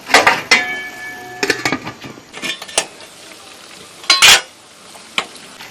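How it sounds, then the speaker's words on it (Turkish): A spoon stirs a thick oily red pepper pickle mixture in a pot, with close scraping strokes and sharp metallic clinks against the pot at an uneven pace, without talking. "Bakın karıştırıyorum."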